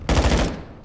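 A short, loud burst of rapid automatic gunfire in a Call of Duty game, a few quick close shots cutting off sharply after about half a second.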